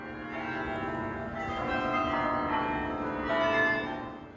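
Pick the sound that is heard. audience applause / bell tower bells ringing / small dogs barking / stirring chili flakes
bell tower bells ringing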